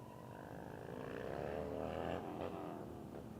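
Harley motorcycle drifting around a donut on a dirt course, its engine a steady droning rumble that rises in pitch as the revs climb, heard from a moderate distance with no talk.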